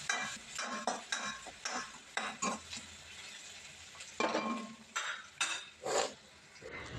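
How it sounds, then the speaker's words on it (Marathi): Finely chopped onions sauté in a pan and are stirred repeatedly, giving soft scraping and clattering strokes in an uneven rhythm over a faint sizzle, fairly quiet and with no talk. "कांदे घालून कांद्याला चांगलं रंग येईपर्यंत असंच हलवत"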